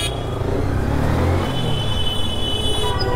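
A motorcycle engine idles close by just after starting, a steady low rumbling hum on a roadside with light traffic, with no talking.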